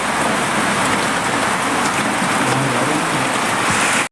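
Steady rain falls, a loud, dense and unbroken hiss of drops that stops abruptly at the very end, with no voices.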